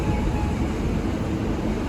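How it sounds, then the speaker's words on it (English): A London Northwestern Railway Class 350 electric multiple unit departs Northampton, a loud, steady low rumble of rolling wheels and motors close by, with no voices. "Now departing is the 1327 London North Western Railway service from Northampton to London Euston"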